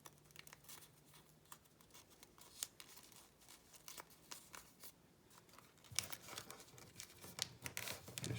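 Origami paper is folded and creased by hand, giving soft crinkles and scattered crisp rustles that grow louder and busier toward the end, heard close and quiet with no talk.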